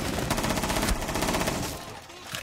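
Rapid gunfire bursts from the Rainbow Six Siege video game crack loud and dense for about two seconds, then drop away to a quieter tail.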